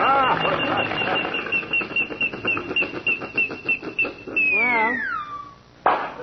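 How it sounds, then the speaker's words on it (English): A shrill, wavering whistle sounds as a radio-show sound effect from a power lawn mower, pulsing rapidly at first and then sliding and warbling before cutting off, loud and alone. "That whistle is new, isn't it?"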